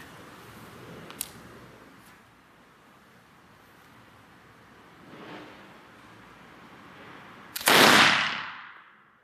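A single loud gunshot from a gun firing cast bullets in a muzzle-velocity test, a sharp broadband crack near the end, after a faint click and a soft thump, outdoors with steady wind noise.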